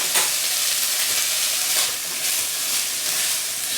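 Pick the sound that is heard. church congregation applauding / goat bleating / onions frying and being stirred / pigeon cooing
onions frying and being stirred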